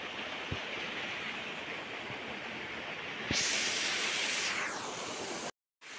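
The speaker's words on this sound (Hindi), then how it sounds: "ये आप मन देख सकत हो लोतलोता वाटरफॉल है" Lotlota waterfall at a picnic spot in Korba, a steady broadband rush of falling water that swells louder midway, with a couple of faint knocks and a brief dropout near the end.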